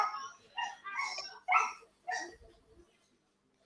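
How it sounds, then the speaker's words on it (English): A dog gives a few short barks and yips in quick succession at close range, with brief pauses between them and no talk over the sounds. "Is that a dog?"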